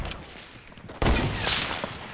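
A loud gunshot blast from a shooter video game, one sharp report followed by a rattling tail of further shots and debris over ongoing game ambience.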